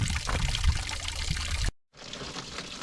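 Old antifreeze pours out of a car radiator into a bucket in a steady splashing stream. The flow stops abruptly partway, then a quieter trickle follows.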